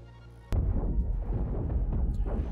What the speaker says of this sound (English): I was getting hit by a flak cannon, a flak turret.